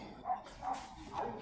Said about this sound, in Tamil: குலைக்கட்டும், குலைச்சி முடிக்கட்டும்.